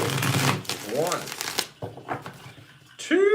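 Tarot cards being shuffled by hand, a run of quick papery riffles and slaps heard close up, broken by short pauses while a person talks over them.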